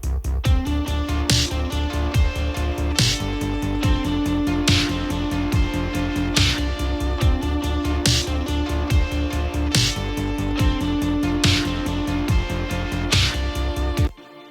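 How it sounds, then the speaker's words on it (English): Snare drum processed with distortion and reverb, hit in a steady repeating groove over a kick pattern with a gritty, roomy crack on each hit, loud and continuous with no speech. "So we've got a bit of distortion where it matters, and reverb"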